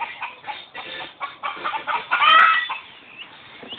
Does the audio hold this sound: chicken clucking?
yes